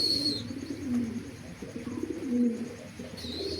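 Soft coos from a pigeon (Indonesian kolong breed) repeat at a steady pace against a background of outdoor hum and faint high chirps.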